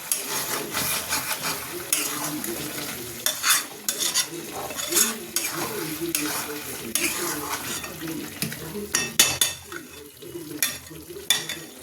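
Chicken curry masala sizzles and fries in a pan as a spatula stirs and scrapes it, giving repeated loud scraping strokes over a constant frying hiss.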